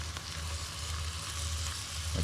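Smash burgers topped with shredded Colby Jack sizzle steadily in a skillet over a campfire, a continuous close frying hiss with no talk.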